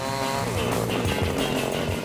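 A large chainsaw with a bar up to 105 centimeters cuts through wood during tree felling, its engine roaring loud and steady throughout with slight shifts in pitch as it bites.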